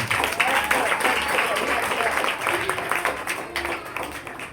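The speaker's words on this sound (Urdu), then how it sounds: "آپ ان کے لیے اور بچوں کے لیے زوردار تالیاں" A Christmas meeting crowd gives loud, sustained applause for the children and teachers, a thick wash of clapping with some voices mixed in.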